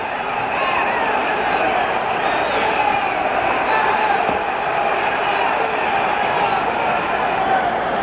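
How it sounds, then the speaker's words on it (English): Excited crowd roaring steadily throughout a world light heavyweight championship boxing match between Bob Foster and Andy Kendall, a dense, continuous wash of cheering and shouting with no breaks. "Crowd is very excited"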